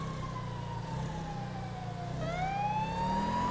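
A police car siren wails steadily in the video game GTA 5, the pitch sliding down and then sweeping back up, heard over a constant engine-like rumble with no talking.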